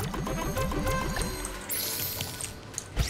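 Water poured onto a freshly planted crop in the farming game Island Saver, a steady splashing pour for about a second and a half under layered background game music, then trailing off into brighter chimes.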